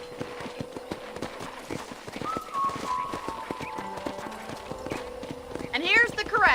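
Horses at a ranch corral in the game Red Dead Redemption, with a steady run of hoof clip-clops and a brief whinny near the end, while someone talks over them.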